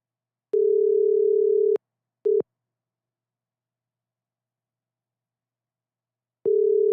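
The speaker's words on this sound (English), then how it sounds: "Hear that ringtone?" Steady single-pitch telephone tone on a burner phone call, sounding in three bursts: a long one of about a second, a brief blip, then silence before it resumes near the end, loud and clean with no voices.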